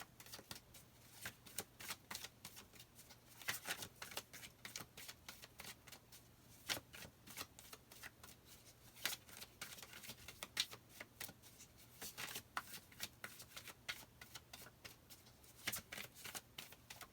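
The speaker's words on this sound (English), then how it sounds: "I'm going to start shuffling" Rapid papery riffling and snapping of tarot cards being shuffled, continuous bursts of crisp clicks repeating throughout, close and fairly quiet, with no talking.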